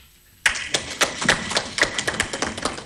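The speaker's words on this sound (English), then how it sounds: "Yes, you can clap." Members at an annual general meeting start clapping after a pause, a modest, scattered patter of hands that grows into uneven rhythmic claps in a quiet hall.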